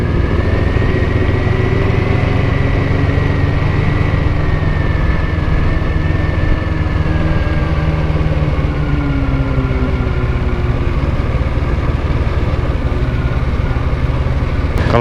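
A car engine pulls in first gear on a steep mountain road up Mount Telomoyo. It gives a loud, constant drone with a slowly shifting pitch and no talking.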